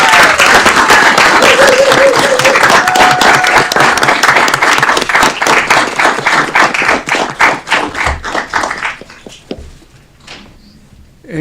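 Loud, dense audience applause fills a city hall award ceremony honoring a city employee in Aurora, holding steady before thinning into scattered individual claps and fading out near the end.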